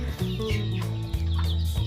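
Purebred laying hens cluck and call in a farm coop, the fowl vocalizations loud and close, with repeated clucks and a sustained crowing-like tone layered over several seconds of steady poultry noise.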